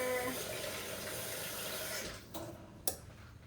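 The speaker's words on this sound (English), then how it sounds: "And add a little bit of water." Water runs steadily and splashes into a container for a couple of seconds, then stops, followed by a few light clinks.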